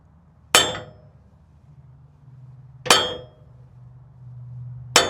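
Three sharp, loud metallic hammer strikes land about two seconds apart on a part of a Toyota Land Cruiser, each ringing briefly before fading into a quiet low hum.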